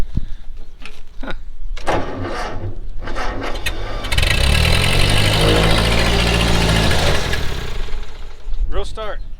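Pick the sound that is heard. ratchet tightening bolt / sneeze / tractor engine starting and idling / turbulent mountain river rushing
tractor engine starting and idling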